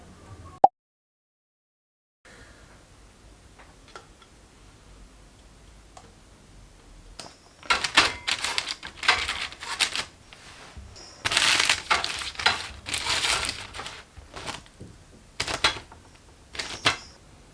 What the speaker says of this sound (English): I'm just printing with the correct size